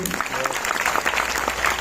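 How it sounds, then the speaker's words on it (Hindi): Audience applause for a manager at a Hindi-language meeting or session, a dense steady wash of many hands clapping close and loud throughout, with some speech mixed in. "एक बार जोरदार ताली बजेगी सर के लिए?"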